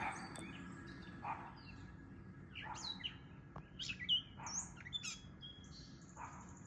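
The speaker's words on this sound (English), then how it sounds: "Catbird." Several short gray catbird calls and song phrases ring out over a steady low background hum, varied chirps and whistles coming in irregular bursts.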